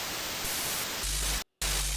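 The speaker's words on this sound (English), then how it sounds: "I just cut up different sound effects of static." Chopped-up static sound effects in a song: harsh white-noise hiss cut into abrupt segments, with one sharp dropout of total silence before the static snaps back, loud and close.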